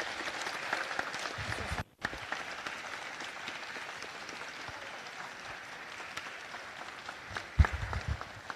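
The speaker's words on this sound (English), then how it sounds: "the city of Homestead applauds her" Steady applause from the audience at a Homestead city council meeting honoring a resident for promoting youth baseball, filling the room continuously with a brief dip near the two-second mark and a louder burst toward the end.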